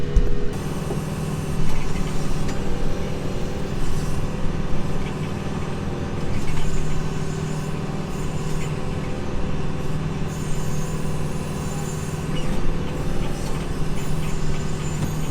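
A farm backhoe runs with a steady diesel engine drone, heard from inside the cab while it digs. Hydraulic whines and clanks rise and fall over the constant rumble, with no one talking.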